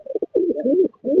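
Indian pigeons coo close up inside a loft, low throaty rolling calls in short bursts with brief gaps, loud and clear with no talk.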